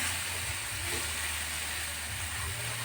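Candlenut and turmeric spices sizzle softly in salad oil, a faint, steady frying hiss that runs the whole time without pause and with no voices over it.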